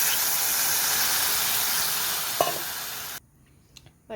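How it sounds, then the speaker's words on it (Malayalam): Water poured into a hot frying pan of cooking vegetables gives loud, continuous hissing and sizzling, broken by a brief clatter, then it cuts to near silence with a few faint clinks. "ഇനി നമുക്ക് വെള്ളം ഒഴിക്കാം"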